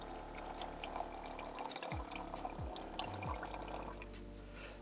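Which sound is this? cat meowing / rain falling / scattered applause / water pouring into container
water pouring into container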